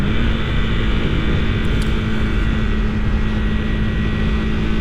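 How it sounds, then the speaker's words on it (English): A 2025 KTM 390 Adventure R motorcycle engine lugs steadily out of fourth gear, a loud, continuous low drone with a fixed hum under it and heavy wind rush throughout, with no pauses or talk. "Really good, actually, digging its way out of 4th gear when you probably should be in 3rd."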